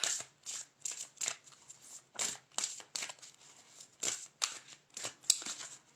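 Playing cards shuffled and drawn by hand, about a dozen quick papery riffles and slides close up, sharp and crisp against near silence.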